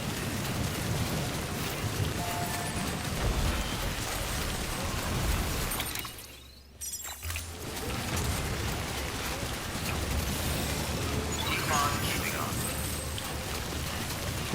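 Steady rain pours in the Death Stranding game world, a dense, constant hiss that briefly drops out mid-clip before resuming. Talk sits over the downpour.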